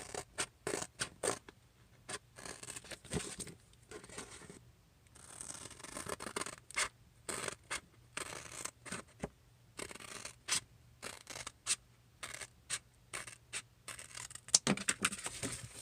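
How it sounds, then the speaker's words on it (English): Scissors cut through material while a pallet board is being worked on, giving quiet, close, irregular snips and scraping bursts separated by brief pauses, with no voices. "So I'm going to have to get some scissors so I can cut that."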